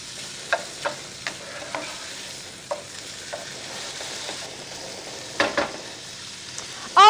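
Protein frying in a pan gives a steady sizzle with scattered spoon-stirring clacks and scrapes, a louder clatter of utensil hits near the end, no voices.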